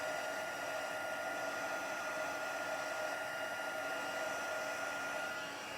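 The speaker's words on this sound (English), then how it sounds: "the second one is for heat embossing, which is what we're doing right here" A heat embossing tool blows a constant, even roar of hot air while melting embossing powder, loud and close, with no pauses until it cuts off right at the end.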